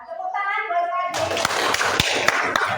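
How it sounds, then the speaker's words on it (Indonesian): A class of children bursts into quick, lively applause for a young pupil right after a brief adult voice, the clapping close and continuing to the end. "Ya, tepuk tangan buat adik."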